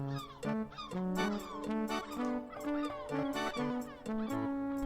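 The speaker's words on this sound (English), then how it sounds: "Stand still long enough and the gulls will find you" Seagulls squawk in the video game Lucy Dreaming, a string of nasal, pitched calls repeated in quick succession, fairly close and clear with no talk over them.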